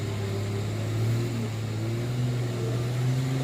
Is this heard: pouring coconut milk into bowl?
no